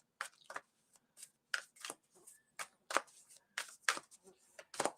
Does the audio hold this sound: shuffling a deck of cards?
yes